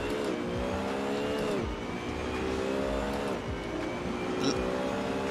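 Race car engines in the Assetto Corsa racing game, a Lamborghini and a BMW on track, whine loudly and steadily, with pitch rising and dropping through gear changes and a faint tyre squeal.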